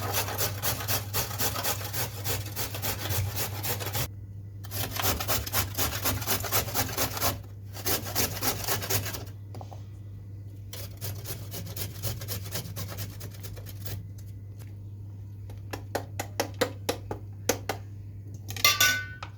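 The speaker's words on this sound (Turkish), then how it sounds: "havuçlarımı da rendeledim." Steady rhythmic rasping of carrots being grated on a grater, repeated strokes close up with brief pauses, ending in a few faster scrapes; a low hum runs underneath.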